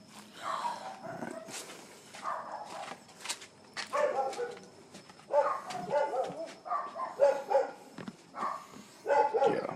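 Dogs barking in a neighbourhood in the evening, with repeated irregular barks and yips of moderate loudness in bursts, some overlapping, heard at a distance.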